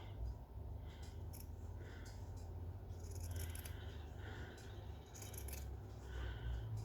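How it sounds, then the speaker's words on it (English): Scissors snip off small fabric edges close by, a series of soft crisp cuts and rustling fabric over a low background hum, with no talking. "we're going to cut these little edges off if there are any"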